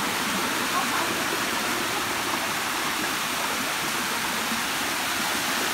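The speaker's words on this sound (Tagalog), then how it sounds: "Ganda ng falls." A waterfall pours in a steady, loud, even roar of falling water that holds from start to finish, with no breaks or shifts in strength.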